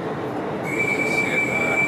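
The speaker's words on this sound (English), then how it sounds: "we're literally on the train now, about to leave." Inside a train about to leave Amsterdam for Utrecht, a steady rumbling rail noise fills the space while a thin, high wheel squeal rises and holds.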